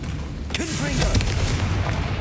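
A Confringo spell explodes in the Hogwarts Legacy video game, a loud booming blast with a rumbling low tail amid game effects, and a voice sounds briefly over it.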